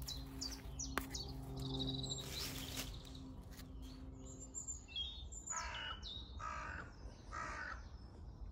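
Crows cawing repeatedly, harsh calls in bursts, with some chirping birds mixed in outdoors; moderately loud and fairly close.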